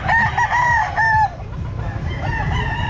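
Sweater gamefowl rooster crowing at a pet market, two loud, close crows in quick succession, followed by a fainter crow amid a background of market noise.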